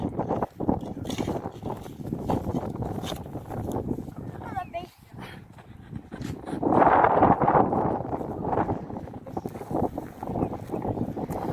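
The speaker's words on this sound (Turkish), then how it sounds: "Oo, çok esiyor çok esiyor burası." Strong wind gusting outdoors in a forest near farmland, buffeting the microphone with a rough, rumbling roar that swells midway, under near-continuous talking.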